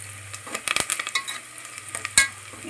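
Mutton biryani ingredients stirred and frying in a pan, a steady sizzle under a rapid series of scraping stirs, with one sharp metallic clack near the end.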